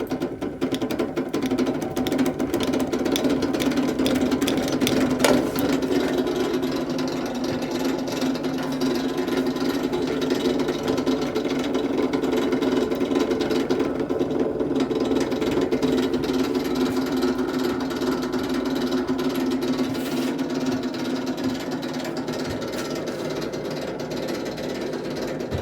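A heavy wheel spins steadily on a battery-powered induction motor, giving a continuous close hum with a faint rhythmic rattle that runs unbroken throughout.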